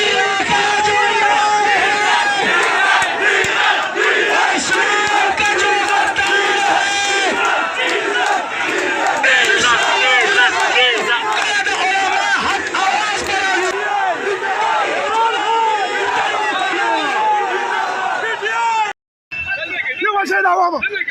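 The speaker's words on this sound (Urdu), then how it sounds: "پشاور کے جمعیت علماء اسلام فضل الرحمان گروپ کے اس ورکرز کنونشن کے اندر لوگوں نے نعرے کیا لگائے ہیں" A large crowd at a Jamiat Ulema-e-Islam (F) workers' convention in Peshawar chants slogans in loud, continuous roaring unison, dense voices filling the whole stretch with only a brief break near the end.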